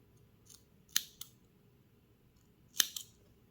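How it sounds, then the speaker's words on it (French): Scissors snip through strands of braided cord in a quiet room: a few sharp, crisp cuts close by, with two main snips about two seconds apart and lighter clicks between them, no voices. "je vais tirer un petit peu sur mes brins ici, là, pour pouvoir venir les couper"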